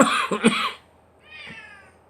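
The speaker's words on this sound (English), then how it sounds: "The cat's getting into shit." A house cat gives a raspy, coughing sound, then after a short pause a softer, fading meow. It is close by, with no one talking.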